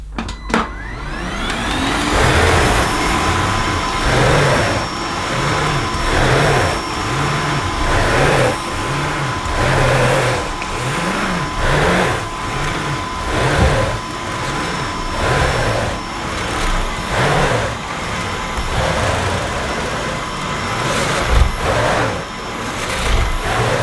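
A Hoover Synthesis Activ cordless bagless cylinder vacuum runs steadily with a high motor whine, pushed back and forth over carpet in a regular rhythmic pattern, close and loud with no talking.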